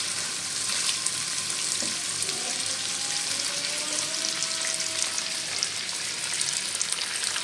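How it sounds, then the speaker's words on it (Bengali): Vegetables and giblets sauté in a hot pan with a continuous, close crackling sizzle that holds steady throughout. "তো এটাকে আমি এবার কষবো।"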